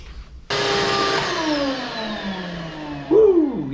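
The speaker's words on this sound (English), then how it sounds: "So now I'm going to vacuum up my mess." A loud shop vacuum kicks in abruptly, cleaning up plaster wall repair debris, and whines steadily, its pitch slowly falling, then surges and wavers near the end as the motor strains and smokes.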